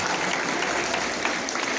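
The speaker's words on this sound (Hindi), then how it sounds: "क्लैप क्लैप करो भाई।" Audience clapping at a school Independence Day celebration, a dense, even wash of many hands applauding together, loud and close, with no break for its short length.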